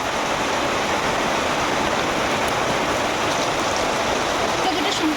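Oil and vegetables sizzle loudly and steadily in a frying pan, a dense hiss that continues unbroken.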